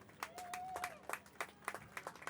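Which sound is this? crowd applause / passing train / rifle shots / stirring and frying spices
crowd applause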